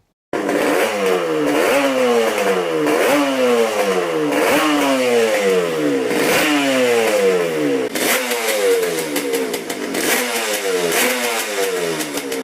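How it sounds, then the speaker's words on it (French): A Yamaha RDX motorcycle engine fires up and is revved hard again and again, each loud, close throttle blip rising and falling in a steady rhythm with no voices. "on va vous incruster quelques petites phases de démarrage de cette moto"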